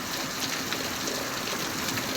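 Steady rain falls during a wet spell in Gujarat, a dense even hiss of drops filling the whole stretch without pause, fairly near and alone with no voices.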